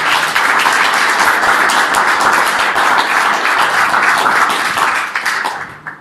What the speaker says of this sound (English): So should we give him a round of applause?